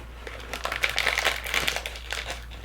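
Crinkly plastic wrapper of a double-wrapped Korean Choco Boy snack being opened, close and busy with rapid crackling bursts for a couple of seconds.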